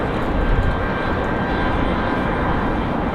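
An Air Canada airliner in all-black livery arrives at Raleigh-Durham International Airport, a loud continuous engine roar and rumble with a steady faint whine, heard alone.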